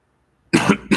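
A person coughs from postnasal drip, a sudden harsh burst after silence followed by a second quick cough, loud and close with no talking.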